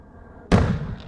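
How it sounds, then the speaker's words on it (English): A single firework goes off with a sudden sharp boom after a quiet stretch, followed by a brief rumbling, crackling decay. "That was a firework."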